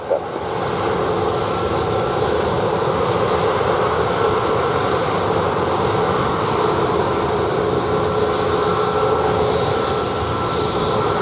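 An airplane landing at a Jamaican airport produces a loud, continuous engine roar that holds steady and close for the whole stretch.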